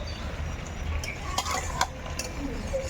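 Onion paste frying for mutton curry, stirred in a pan with soft scraping and a few sharp utensil clicks over a low steady sizzle, close and fairly quiet.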